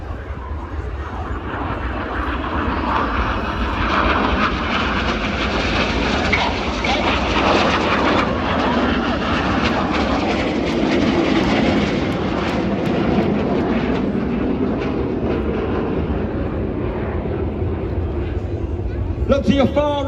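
Red Arrows jets fly over a Scottish air show, a loud sustained roar that swells and fades as the aircraft pass, with crowd and ambient noise underneath.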